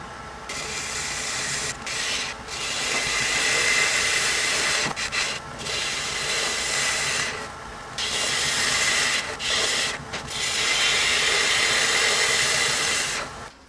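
Resin spinning on a lathe against a chisel gives a loud, steady hissing scrape, broken by short pauses as the tool lifts off, close and without speech.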